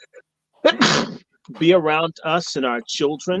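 A single sharp sneeze bursts out near the start, close and loud, then a voice carries on speaking right after it.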